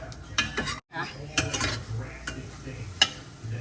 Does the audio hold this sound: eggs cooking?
yes